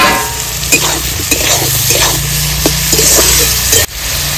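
Chili and eggplant pieces fry in a pan with turmeric, a steady broadband sizzle with scattered stirring clicks and scrapes, close and fairly loud, no voices.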